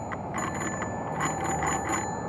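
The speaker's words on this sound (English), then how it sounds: "ring that bell" A bicycle bell on an e-bike rings in quick repeated dings, heard close and fairly clear over a steady background of outdoor road noise.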